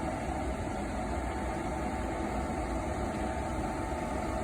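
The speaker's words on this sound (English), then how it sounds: "Power's now to the unit. The blowers start up." Gas furnace blowers run up to a steady broadband whoosh of rushing air with a low motor hum, even and continuous at moderate level, no voices.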